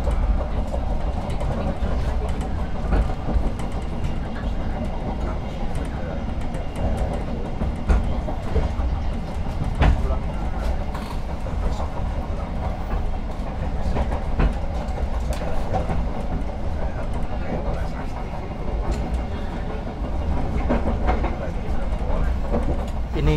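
An Argo Muria passenger train from Jakarta runs on rails past Cikampek station, heard from inside the carriage as a steady, loud rumble with rhythmic clickety-clack wheel beats throughout.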